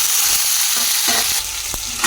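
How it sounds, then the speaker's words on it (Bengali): Onions and green chillies fry in hot oil in a wok for a shrimp and cucumber curry, giving a steady close, loud sizzle broken by a few brief stirring scrapes. "কড়াইতে তেল দিয়ে দিয়েছি, তেল গরম হয়ে গেছে, এর ভিতরে আমি পেঁয়াজ দিয়ে দেবো"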